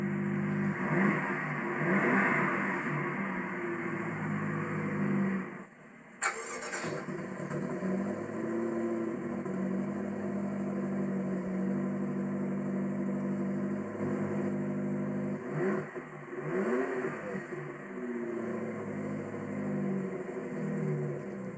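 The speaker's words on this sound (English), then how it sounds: "Just put your foot on the brake, hit the button to start." A 2012 BMW X6 M engine runs loud and close with a deep, steady rumble, briefly drops away, then catches again and holds a sustained throaty idle with a few swells of revving.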